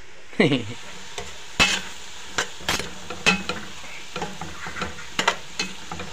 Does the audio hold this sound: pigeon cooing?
no